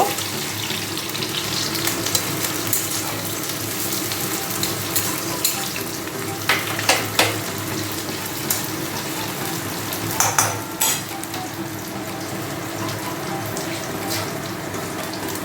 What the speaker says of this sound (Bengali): মাছটাকে একটু ভাজা ভাজা করে নেব